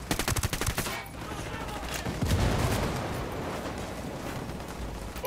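Gunfire in the video game Ghost Recon Wildlands: a rapid run of sharp shots opens, then gives way to a heavy, sustained roar of overlapping fire and blasts that stays loud to the end.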